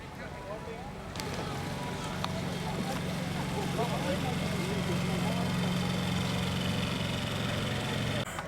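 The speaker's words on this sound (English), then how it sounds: "Little tiny cruiser passing in front of us, look." A small river cruiser boat motors past on the River Avon at Stratford-upon-Avon, its steady low engine drone holding at moderate distance beneath outdoor ambience and birdsong for several seconds.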